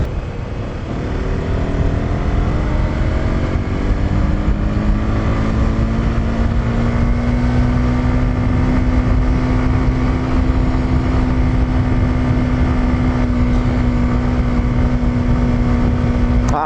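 Honda CB150X motorcycle engine on a night ride toward Tagaytay, a steady loud drone with a rising then holding pitch over about seventeen seconds, close and continuous with wind noise, no talking.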